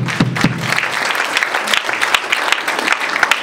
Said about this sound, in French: Acclame Jésus pour la parole.